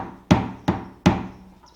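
Three sharp metallic taps from a hammer striking a screwdriver held against the fuel pump of a Fiat Bravo, evenly spaced and close, each with a short ringing decay.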